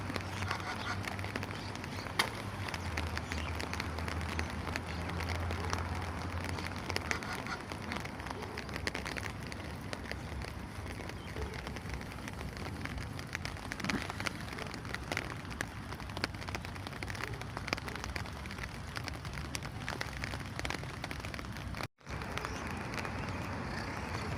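Steady rain pattering on surfaces, a soft continuous hiss with scattered drops, fairly quiet and uninterrupted apart from one brief dropout.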